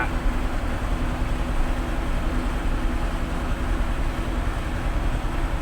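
A heavy cement mixer truck descends a mountain road with its engine braking in third gear, a steady, dense low rumble and roar that holds constant throughout, close and without talk.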